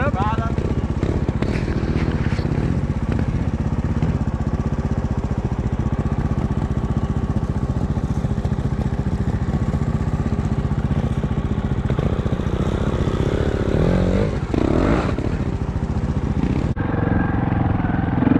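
Montesa 300RR trials motorcycle engine running steadily and close while it climbs a log, with people talking over the continuous motor drone until it cuts off near the end.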